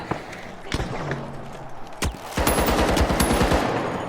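Rapid automatic gunfire and sharp blasts from the shooter game The Finals burst out in dense, loud volleys, with a steady run of shots in the second half.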